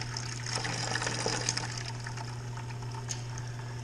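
Water runs steadily through a wort chiller during beer brewing, a constant close gush over a low hum with no talk.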